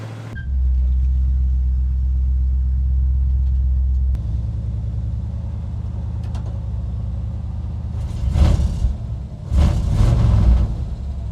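A 1964 Chevelle El Camino's engine, hot-wired, catches and settles into a steady, loud rumbling idle close by, with two throaty revving swells near the end.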